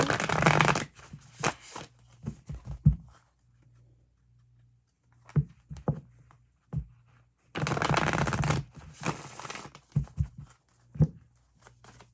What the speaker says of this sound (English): So we're going to go ahead and pull our card